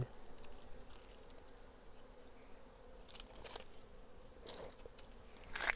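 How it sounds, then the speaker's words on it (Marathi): Wild honey bees hum around a hive on a tree, giving a faint, continuous buzzing drone. Individual insects pass closer now and then, with no voices. "हे पहा माशा मित्रांनो मोरच्या माश्या"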